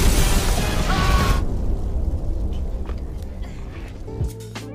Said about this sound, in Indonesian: bom pun meledak